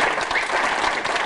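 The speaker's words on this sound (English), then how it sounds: "we should give him a rounding applause for that" Dense, steady applause from a crowded audience at a 1995 Freedom Party of Ontario election dinner, a continuous wash of many hands clapping at once with no voices over it.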